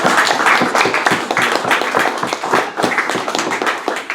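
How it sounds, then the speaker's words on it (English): An audience applauds after a presentation, a dense burst of many hands clapping, loud and continuous with a rapid irregular patter, lasting a few seconds without talk. "Let's give these folks a nice round of applause."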